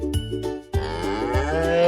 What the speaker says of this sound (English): Let's hear how the cow sounds.